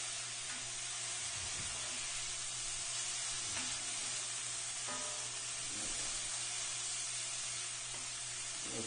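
Meatloaf mixture with a splash of Worcestershire sauce sizzles and fries steadily in a pan, a continuous close hiss with occasional soft stirring clicks and no talking.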